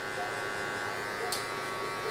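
Electric hair clippers buzz steadily and close up while cutting a taper guideline with the lever fully open, a continuous even hum.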